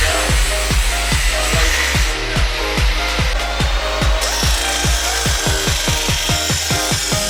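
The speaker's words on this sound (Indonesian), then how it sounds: "masuk ke proses gerinda. Proses ini bertujuan untuk memperhalus." An angle grinder works over the metal frame of an 80 by 180 cm neon box sign, a loud steady whine with repeated rhythmic scraping strokes pulsing through the whole stretch.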